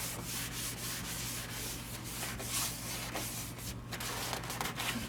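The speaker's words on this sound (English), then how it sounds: "And I'll just keep applying oil as I sand." Steady abrasive rubbing of sandpaper against a spalted magnolia bowl spinning on a wood lathe, with oil applied during sanding; a continuous close scratchy hiss over a low motor hum, no talking.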